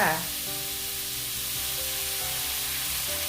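Shrimp and oyster sauce sizzle in a wok stir-fry with wild garlic flowers, a steady close frying hiss that starts with a louder burst as the ingredients go in, with faint tones in the background.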